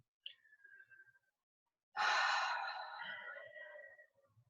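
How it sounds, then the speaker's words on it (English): A deep breath taken during an EFT tapping session: a short inhale, a pause, then a long, audible sighing exhale, close and alone. "Now take a breath."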